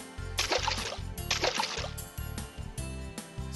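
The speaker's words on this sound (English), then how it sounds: "That sounds like splashing water!" Water splashes in two bursts, each about a second long, over a steady low pulsing croak-like rhythm in the background, moderately loud and close.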